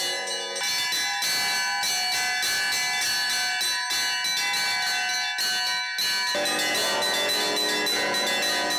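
The 6.5-ton Sakhalin church bell rings out at night in Yuzhno-Sakhalinsk, loud repeated strikes with long, overlapping resonant harmonics that hang between blows, joined by a brighter bell partway through.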